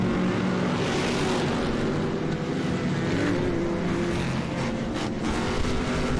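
Off-road race trucks of the 4800 class racing at Crandon, a steady loud roar of engines under strain that holds through the whole stretch without a break.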